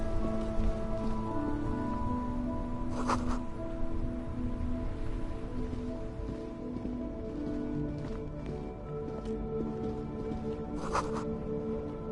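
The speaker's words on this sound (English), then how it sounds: "This rain will not let up anytime soon." Rain falls steadily in the video game Disco Elysium, a continuous dense patter with soft ambient tones beneath and a couple of brief splashy bursts, moderately loud, with no speech.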